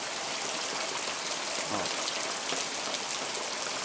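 Out-of-season rain falling steadily outside near a rural house, a dense even hiss of drops with no pauses, moderately loud throughout and a brief word spoken over it.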